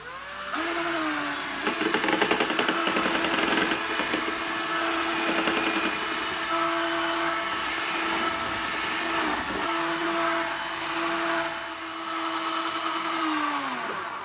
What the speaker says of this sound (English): So I have my stir stick on the end of my drill.